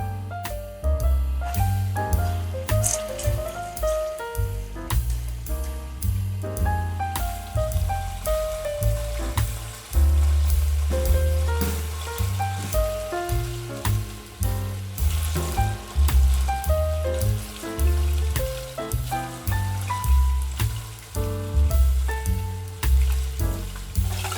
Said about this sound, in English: Let the meat cook well until the color changes and the outside becomes nicely browned and slightly crispy.